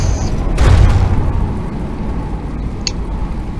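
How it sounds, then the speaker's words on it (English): Bombs from a submarine bomber explode in the naval combat game From the Depths: one deep, loud boom with a rumbling tail over steady game noise, then a brief faint crack later. "Oh my god, our bomber is actually dropping bombs on it"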